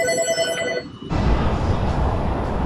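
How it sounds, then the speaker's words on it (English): In an auto repair shop, a telephone bell rings with a bright repeated trill for about a second, then cuts off as loud broadband shop noise takes over. "Phone's ringing, guys."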